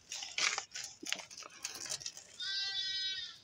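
A male goat that had eaten pesticide lets out a single drawn-out bleat near the end, nearby and clear. It follows a few scattered short knocks and rustles.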